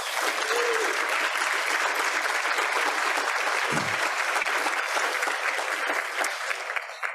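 Applause from a Rotary Club audience in Fort Worth, a sustained wash of many hands clapping at moderate distance, holding steady for several seconds before thinning slightly at the end.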